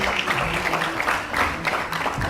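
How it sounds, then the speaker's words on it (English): Audience applause at a content creation awards event, a steady dense wash of clapping throughout with a faint voice underneath. "Please give him a round of applause"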